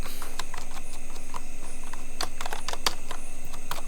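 Someone types a username on a computer keyboard, sparse, uneven key clicks, close and fairly crisp, over a steady faint hum.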